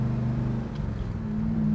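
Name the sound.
1966 Pontiac GTO convertible exhaust accelerating through gears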